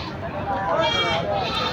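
Barbari goats bleat at a goat market in Taharpur, a wavering bleat rising over busy crowd noise while people talk nearby.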